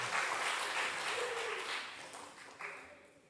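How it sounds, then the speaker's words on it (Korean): Applause from a church congregation at a Korean Friday prayer meeting, a dense wash of clapping that starts loud and gradually fades, with a voice briefly heard beneath it. "박수를 한번"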